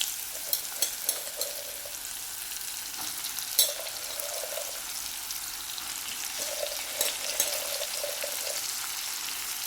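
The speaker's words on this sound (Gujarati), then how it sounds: "ત્યારબાદ આ પરવળ આપણે વઘારી લઈશું." Parval (pointed gourd) frying in a tempering of mustard seeds, asafoetida and turmeric, a steady close sizzle with occasional stirring clinks and scrapes, no voices.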